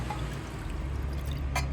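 Milk poured into a pan, a short continuous splashing pour heard up close and fairly loud, ending with a brief brighter spatter.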